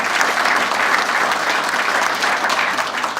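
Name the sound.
applause at a Hall of Fame luncheon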